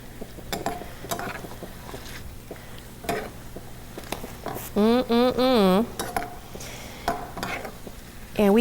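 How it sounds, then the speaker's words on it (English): A spoon stirs a white sauce in a pan during turkey schnitzel cooking, scraping and clinking against the metal in short strokes, with clear whistling tones sounding in brief bursts. "Give that a little stir"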